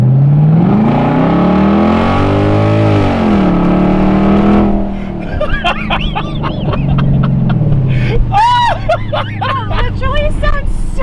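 Straight-piped V8 Genesis sedan revving hard, the exhaust note sweeping up and down in loud rising and falling pulls, then settling into a rumbling idle while people chatter excitedly over it.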